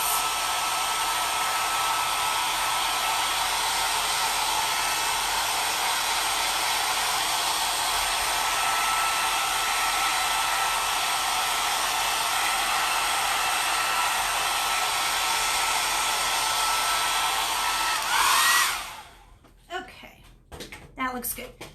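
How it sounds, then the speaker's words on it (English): A hair dryer blows steadily on paint on a chalkboard, a loud constant whir for about eighteen seconds before switching off, followed by a few soft handling knocks. "I'll go ahead and hit it with the hair dryer to finish drying it"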